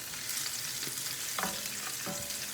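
Onion frying in a pan outdoors, a steady, dense hiss of sizzling oil with occasional stirring scrapes and small pops, close and constant throughout.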